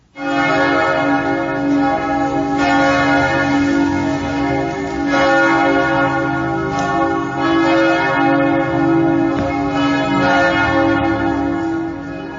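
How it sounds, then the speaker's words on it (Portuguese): A set of six solid copper church bells peal continuously and loudly, their deep overlapping tones ringing out together with a rich, sustained resonance and no voices. "O conjunto é formado por 6 sinos de cobre maciço, com nomes e pesos diferentes."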